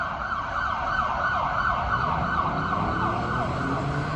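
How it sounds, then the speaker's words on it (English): A police car siren wails continuously and loudly, close by, with a steady rising-and-falling tone over road traffic noise. "I like sirens being part of this."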